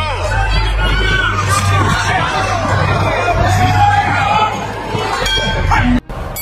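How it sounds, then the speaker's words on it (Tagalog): Filipino fans in Canada roaring and cheering at a boxing match featuring Sonsona, a dense loud crowd din with rising shouts, and a commentator talking over it. "Talagang sigawan ang mga Pinoy sa Canada na nanonood sa laban mga tol pag tumama ang batang si Sonsona"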